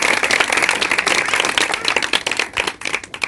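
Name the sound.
congregation clapping loudly for the band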